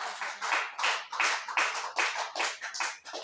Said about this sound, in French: Applaudis-moi le Seigneur.